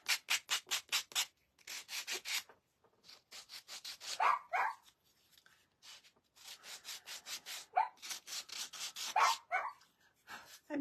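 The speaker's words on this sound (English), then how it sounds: "my dog's being obnoxious" A dog barks in several sharp, separate bursts, fairly close, over a steady rhythmic rubbing or scraping from a craft project nearby.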